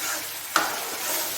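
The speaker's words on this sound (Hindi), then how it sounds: "10 सेकेंड के लिए अच्छी तरह मिक्स करना" Chickpea masala for Lahori cholay being stirred in a pan, a steady broadband sizzle with one brief scrape of the spoon near the middle, fairly soft and with no voices.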